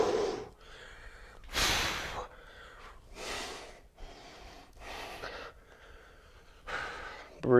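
Heavy breathing during a daily arms-and-legs workout of alternating lunges, a series of loud, forceful exhales and gasps spaced about a second apart, close to the microphone.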